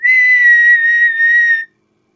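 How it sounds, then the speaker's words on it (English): A single loud, shrill whistle blast held for about a second and a half, close and clear, then silence. "a great shout went up that almost drowned the sound of the whistle"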